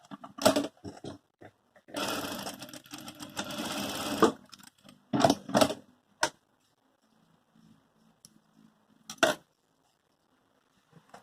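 A sewing machine stitches a strap for a saddlebag-style pouch in short, close bursts of rapid mechanical chatter, one longer run followed by a few quick spurts separated by quiet pauses.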